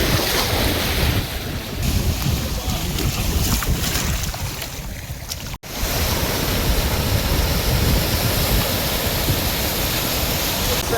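Ocean waves roll onto the beach at Kuakata, Bangladesh, with fishing boats docked nearby; a steady, loud surf roar with heavy wind buffeting the microphone and a brief dropout midway, no voices.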